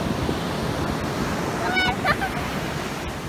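Sea waves breaking on a Sri Lankan beach at a sea turtle conservation centre, a constant close wash of surf with wind buffeting, and brief voices partway through.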